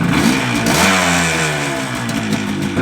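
A classic Yamaha RD 250 two-stroke motorcycle engine revs loud and close, its buzzing note rising and falling steadily throughout without any talk.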